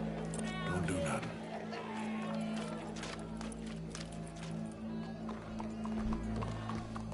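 A horse's hooves clip-clop at a steady walking pace, fairly close, with voices talking over a crowd murmur in the background.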